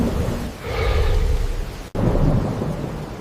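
A prehistoric thunderstorm rumbles with a loud, deep roll of thunder over steady heavy rain, breaking off abruptly for a moment before the downpour and rumbling resume.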